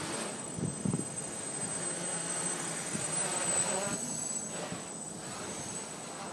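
A quadcopter on a FlyDuino frame with a 40C battery flies, its motors giving a steady, whining buzz at moderate distance over outdoor background noise, with no talking.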